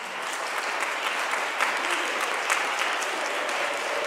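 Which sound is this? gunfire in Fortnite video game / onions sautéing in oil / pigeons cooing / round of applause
round of applause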